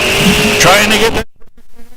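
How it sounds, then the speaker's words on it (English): A drag race car at a raceway accelerates hard through the gears, a loud close roar with a quick upshift before cutting off abruptly, followed by brief quieter mechanical noises. "Rolling through the gears, 1207 at 114 miles an hour."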